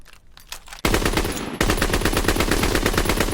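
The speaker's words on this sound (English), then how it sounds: "Then we got the Lewis gun, which is actually this bad boy." A Lewis light machine gun fires in a Call of Duty game: a brief burst, then a short gap, then a loud continuous stream of rapid rattling shots, close and alone with no talk.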